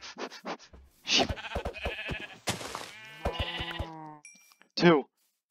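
Several loud, close sheep bleats in Minecraft, in separate bursts with short gaps between them and a final sharp burst.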